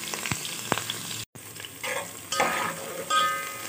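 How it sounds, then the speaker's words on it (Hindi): Frozen chopped onion sizzling and frying in a hot pan for hari chana sabzi, a steady crackling hiss with brief stirring scrapes and a short break partway through. "अब मैं डाल रही हूँ इसमें प्याज।"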